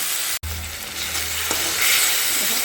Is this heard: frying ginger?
yes